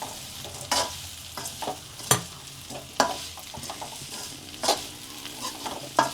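Soft sizzling of a spice tempering in a hot pan for cabbage muthiya dhokla, broken by repeated sharp scrapes and clinks of a spoon stirring at an irregular rhythm.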